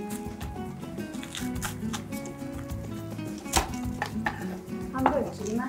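Repeated chops of a dull knife cutting leftover vegetables on a cutting board mixed with kitchen clatter, a steady busy rhythm with a few sharper knocks near the end.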